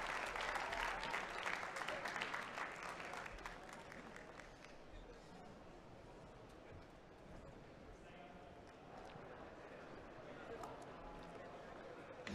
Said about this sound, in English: big round of applause for Mikael